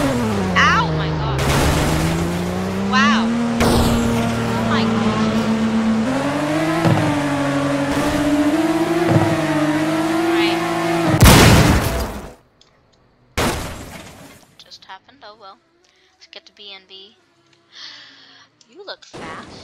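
Cars driving and crashing in the Roblox video game: a steady rising and falling engine drone under a game soundtrack, then a loud burst of impact noise around the middle, followed by quieter scattered sounds.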